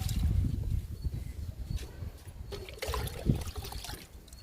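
Homemade kitchen-waste liquid fertilizer pours and trickles into rice-sack planters after rain, a soft steady splashing with a few louder gurgles, close by and fairly quiet.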